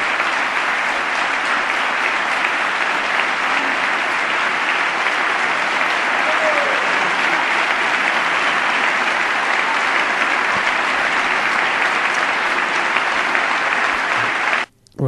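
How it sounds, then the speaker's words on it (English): Members of Congress applaud in the House chamber during the 2013 State of the Union address, a loud, unbroken roar of clapping that lasts about fifteen seconds before cutting off abruptly. "That's how long they clap for this one."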